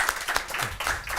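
Audience applause at a university Africa-themed event, a short burst of irregular clapping from a small crowd.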